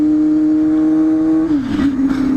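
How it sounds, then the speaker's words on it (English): A loud, steady motorcycle engine drone through a straight-through exhaust holds one pitch up close, then dips and wavers as the throttle shifts. "This exhaust is way too loud, guys. It's pretty much straight through."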